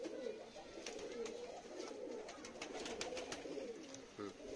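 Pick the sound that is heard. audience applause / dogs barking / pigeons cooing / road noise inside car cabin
pigeons cooing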